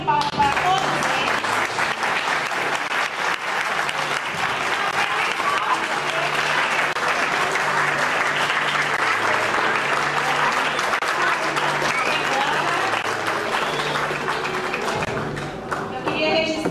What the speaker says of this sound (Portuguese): Uma salva de palmas para todos vocês.